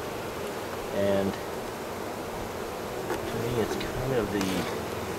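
Honey bees buzz steadily around a hive during colony work, a dense insect drone throughout with a few louder passes close by, while someone speaks briefly over it.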